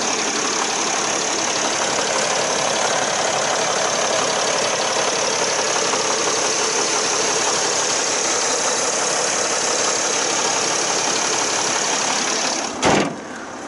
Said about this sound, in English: showing the V6 engine purring away